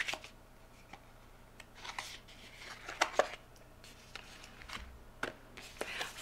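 Tarot cards shuffled and a card drawn from the deck, close soft riffles, slides and taps scattered over several seconds, quiet, with a faint whispering voice in the background.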